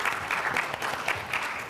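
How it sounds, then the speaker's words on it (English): Brief audience applause for a conference panel on big data for small business, a short burst of scattered clapping from a modest crowd, slightly distant. "Thank you for the gratuitous applause"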